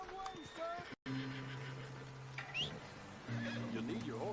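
A horse whinnies in a video game, rising whinny calls heard briefly amid steady game tones, with voices talking over it.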